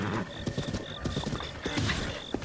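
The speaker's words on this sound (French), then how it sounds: "Un cheval squelette, c'est stylé ça." Clip-clop of a skeleton horse's hooves in Zelda Breath of the Wild, quick rhythmic hoofbeats close by, layered with a tonal game chime and faint whinny-like sounds.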